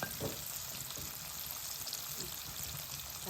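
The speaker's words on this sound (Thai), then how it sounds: "ทอดในเตาในบ้านเลยจ้ะ ทอดไฟอันเตาฟื้นนะคะ" Crispy salmon milt deep-frying in oil on a home stove, a steady close crackling sizzle with faint bubbling pops throughout and no voices.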